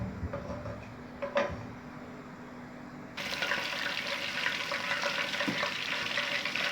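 Whole spices, cinnamon sticks, cloves and chillies frying in a pan for a chicken qurma, giving a soft steady sizzle that becomes noticeably louder and denser partway through, with a few small clinks early on.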